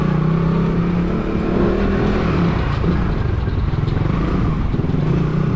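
A tricycle motor passes along a slippery road, its engine drone rising and fading close by in a steady, loud rumble with no talk over it.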